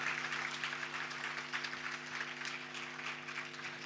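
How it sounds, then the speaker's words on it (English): Audience applause at a dentistry school convocation, a steady wash of clapping from a large hall, fairly faint and even throughout, with a low constant hum beneath. "Let's all give them a big round of applause today."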